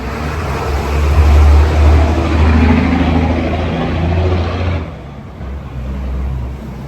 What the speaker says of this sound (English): Chicken buses are loud.